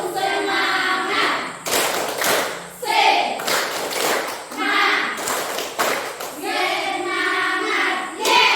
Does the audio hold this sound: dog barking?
no